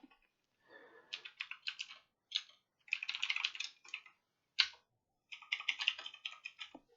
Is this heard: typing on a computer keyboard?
yes